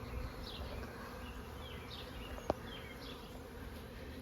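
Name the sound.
bees buzzing in garden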